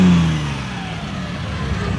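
A Datsun 240Z engine revs at an outdoor classic car show, a steady mid-pitched engine note that falls slightly then holds, close and moderately loud with no talking.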